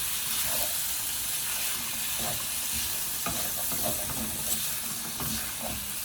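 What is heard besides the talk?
stir-frying green beans in a pan for pancit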